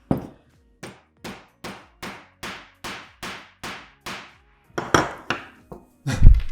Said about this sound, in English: Just put it in and you whack it with a hammer.